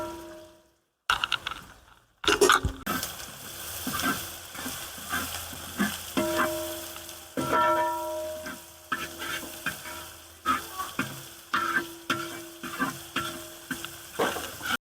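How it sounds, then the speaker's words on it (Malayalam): Onion and green chili fry in hot oil for a kera fish pickle, a steady sizzle broken by repeated scraping stirs in a rhythmic pattern, close and alone with no talk. "ഉള്ളിയും പച്ചമുളകൊക്കെ കൂടെ നന്നായിട്ട് വറുത്തെടുത്തു"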